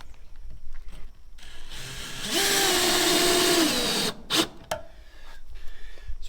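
A power drill drives a screw into a wall panel in one sustained, rising whirr lasting under two seconds, followed by a short burst and some handling clatter nearby.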